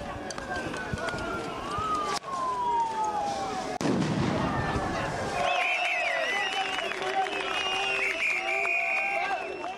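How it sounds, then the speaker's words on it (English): Police firing tear gas canisters at Yellow Vest protesters in the streets of Paris, with sharp bangs, siren-like wails and crowd noise in a loud, chaotic outdoor scene, with people talking throughout. "Tear gas keeps being shot at the protesters."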